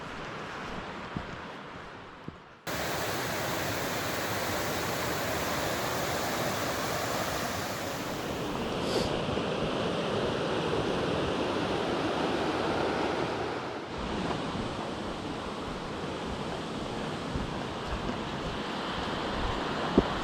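Steady broadband rush of a river flowing right alongside a rooty, wet forest hiking trail on the Loyal Sock Trail in September, continuous and close, with wind buffeting the microphone and no talking.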